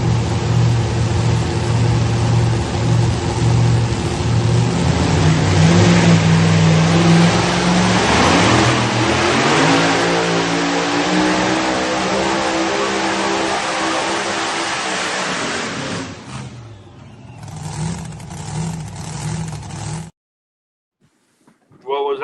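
A truck-pulling vehicle on a sand track at MJC roars at full throttle, a loud sustained engine drone that climbs and strains through the pull before cutting out abruptly into near silence.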